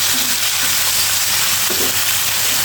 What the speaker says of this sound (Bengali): আর মুরগিগুলো সব উল্টে পাল্টে ভেজে নেব।